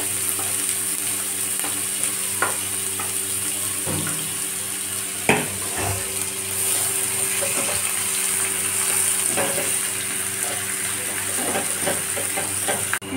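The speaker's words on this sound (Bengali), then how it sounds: "পেঁয়াজগুলো আমি লাল লাল করে ভেজে নেব।" Chopped onions fry with bay leaf in a pan, a steady close sizzle broken by occasional clinks and stirring knocks, with no talking.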